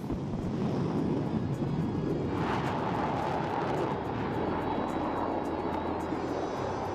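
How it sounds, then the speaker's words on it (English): Sukhoi-30 MKI fighter jet taking off at the Aero India flying display, a loud, sustained broadband jet roar that swells and holds steady throughout, with wind buffeting the microphone. "And there she goes, Sukhoi taking off."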